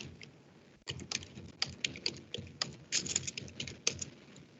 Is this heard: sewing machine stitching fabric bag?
no